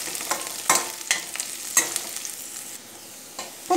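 Curry leaves and masala for a squid dish are sautéed in a pan, with a close frying sizzle and several crisp scraping stirs coming in irregular bursts, fading to a quieter hiss toward the end.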